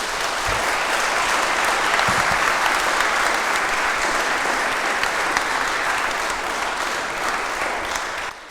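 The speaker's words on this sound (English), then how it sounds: "Big applause" An audience at the close of a panel discussion gives sustained, even applause, dense and loud for over eight seconds before easing slightly at the end, with no voices over it.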